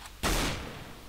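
One loud gunshot in the Roblox Counter Blox shooter game cracks out sharply and then fades over a long decaying tail, with no talk over it.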